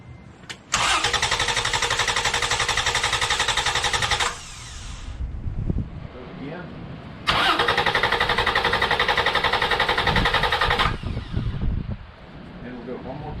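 A car engine cranks on power from a GOOLOO A2 2500A jump starter in two long, loud, close bursts of rapid churning, with quieter rumbling and talking in the gaps between them.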